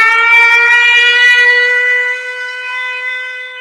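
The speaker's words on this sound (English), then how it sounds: "we have again siren, which fourth for the day" A loud, steady wailing air raid siren in wartime Ukraine holding a sustained tone, dipping slightly in pitch and volume toward the end.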